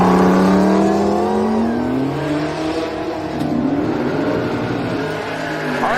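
A drag race car, a Nova, runs down the right side of the racetrack, its engine roaring loud and steady with rising and falling pitch as it pulls away.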